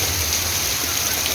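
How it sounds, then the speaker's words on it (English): Steady rain falls on a cool, wet day, a dense continuous hiss of drops spread evenly across the clip with a low rumbling undertone and no voices. "Raining and the weather is really nice."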